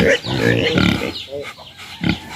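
A boar pig grunts and snorts in close, loud bursts over a couple of seconds, with deep guttural rasps and short pauses, and a voice may mingle with it.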